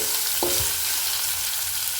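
Onion, ginger, green chili, curry leaves and dried red chillies sauté in hot oil with browned urad dal, a steady close sizzle broken by one quick stir of a spoon in the pan.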